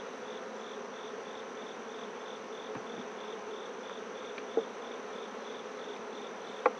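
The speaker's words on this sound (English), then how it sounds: "Oh boy, there's a lot of bees in there now." A mass of honey bees inside an opened hive hums with a constant, soft buzzing drone, broken only by a couple of sharp little clicks from handling the hive.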